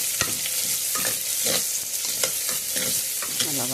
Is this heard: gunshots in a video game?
no